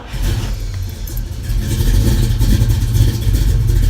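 Car engine fitted with Holley Sniper fuel injection catching and settling into a rumbling idle, with some revving and a steady low mechanical drone throughout.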